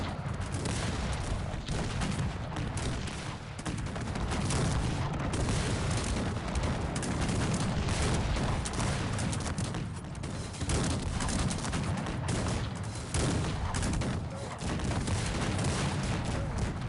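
Cannon and musket fire rattle through a 2v2 battle in the game Cossacks 3, with dense, continuous volleys and booms overlapping at a steady loud level and no talk.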